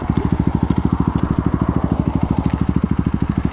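A KTM Duke 390 single-cylinder engine runs steadily while riding, its fast regular firing pulses close and loud, with faint wind noise and no talking.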